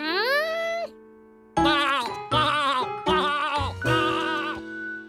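Cartoon sheep bleating in a children's animated show: one long wavering bleat, a pause, then four close, loud bleats in a row, clear and alone.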